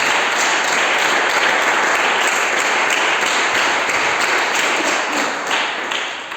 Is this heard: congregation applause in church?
yes